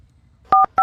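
Telephone keypad tones beep twice in quick succession, clear and close, as someone dials a phone number in a quiet room.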